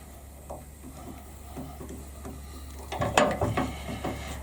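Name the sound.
screwing pen nib section back into HEXA pen kit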